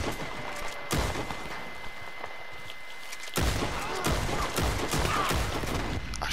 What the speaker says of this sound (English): I shot 3 high volume bullets at him with my Lynchfield repeater